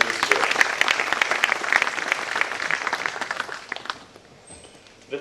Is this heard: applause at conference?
yes